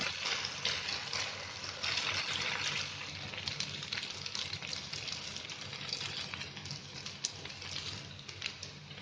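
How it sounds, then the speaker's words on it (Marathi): Semolina gulab jamun balls frying in hot oil over a low gas flame, giving a steady, dense sizzling and bubbling hiss that runs throughout, fairly close and uninterrupted. "जेवढे तेलामध्ये बसतील ना तेवढे सोडायचे, हळूहळू सोडायचे असे."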